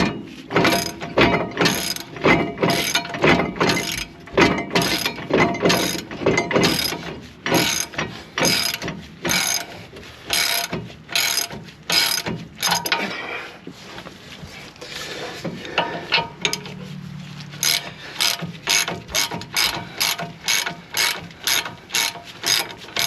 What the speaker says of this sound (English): I got a ratchet.